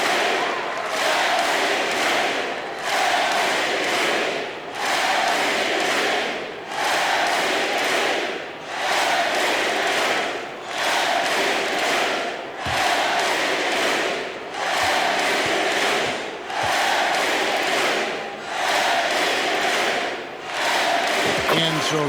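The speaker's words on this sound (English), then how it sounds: "the raucous crowd cheering on Michael Jordan" A raucous arena crowd in a 1988 All-Star basketball video game roars steadily around Michael Jordan's free throws, the cheering swelling and dipping in regular waves for over twenty seconds with no talk over it.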